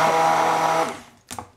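A blender whirs loudly and steadily as it mixes a banana shake, its motor tone holding for under a second before winding down, followed by a brief clatter.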